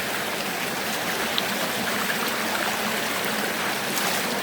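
A river's water rushes and splashes continuously as people cross it on foot during a trek to a waterfall, with a dense, even roar close by throughout and no talking.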